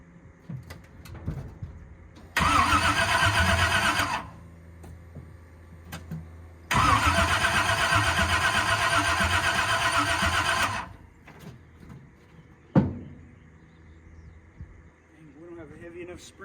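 Big block V8 in a 1965 Chevy Impala under restoration cranks loudly on a 100 amp booster in two long bursts without catching, close up, with someone talking quietly between attempts.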